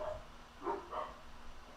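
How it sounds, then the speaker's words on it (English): A dog barks a few times in the background, faint and distant, with two short muffled barks over a quiet room tone. "Ignore the barking."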